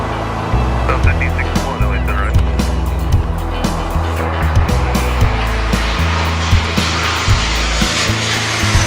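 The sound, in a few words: SOFIA aircraft engines during takeoff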